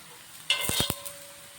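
Paratha cooking in oil on a pan over medium heat, with a few quick scraping, sizzling strokes in a short burst amid a quiet background.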